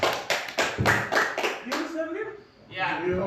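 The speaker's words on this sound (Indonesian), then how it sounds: "Tepuk tangan dulu untuk Ibu Tris." A small group at a teachers' training session gives a brief burst of sharp, close hand claps for about two seconds. A voice then starts speaking as the clapping dies away.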